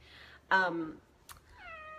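A cat meows indoors: one strong, clear meow, a brief click, then a second rising, tonal meow, close and distinct over quiet room tone.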